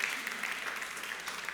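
Church congregation applauding during a sermon, a steady wash of many hands clapping, fairly faint and distant, continuing evenly through the brief moment.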